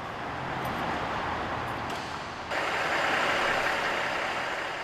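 A semi truck sits at a truck stop at night, its engine giving a steady, loud broadband rumble that swells and grows brighter partway through, with no talking.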